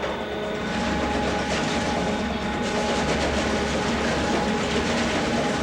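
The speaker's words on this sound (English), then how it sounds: "Once again, you see the shafts slow as the relief valve opens, but the shredder continues to rotate." Industrial shredder shafts turning, a continuous heavy rumbling churn with a steady mechanical clatter, loud and close without pause.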